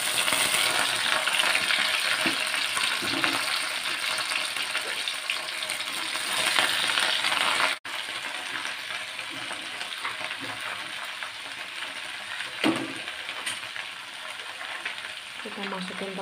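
Water spinach (kangkung) stir-fried in a hot pan gives a steady, fairly loud broadband sizzle, broken by occasional stirring clatters and a brief sharp knock near the middle, with no talk.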